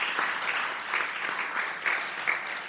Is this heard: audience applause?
yes